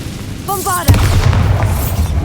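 A Bombarda blasting spell in the video game Hogwarts Legacy bursts as one loud boom, preceded by a brief whooshing cast, with a rumbling tail behind it.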